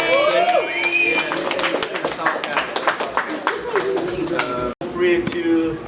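An audience claps and cheers, with bright scattered claps, whoops and crowd noise mixed under steady talk, lasting several seconds with a brief dropout near the end.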